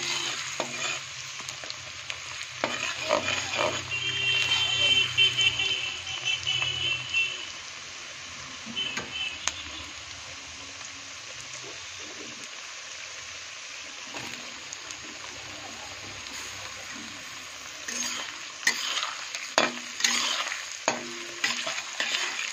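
Chopped onion and tomato fry in a pan for ghugni, giving a steady close sizzle with stirring scrapes. It fades quieter midway, then picks up again with more clatter toward the end, and nobody talks.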